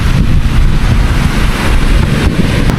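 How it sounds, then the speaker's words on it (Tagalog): Loud, gusty wind buffeting the microphone with a heavy low rumble, steady throughout with no talking, on a fishing outing. "Lumakas na rin yung hangin kasi."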